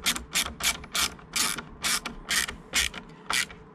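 A hand ratchet clicks in short bursts, about nine regular strokes, close and fairly loud, as it tightens a small screw on a VW T5 wing mirror. There is no talking.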